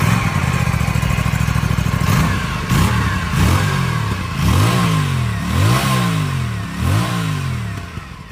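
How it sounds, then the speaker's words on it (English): An Aprilia Tuono 457 naked motorcycle cranks and fires, then its exhaust note rises and falls through several close, loud revs, with no talking. "how amazing the exhaust note sounds. Let me fire it up for you."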